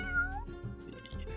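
Synthesized cat meowing from an Egyptian Mau in an ancient Egypt video game: a close, clear meow with rising tonal bends, followed by softer chirping mews over a low game background hum.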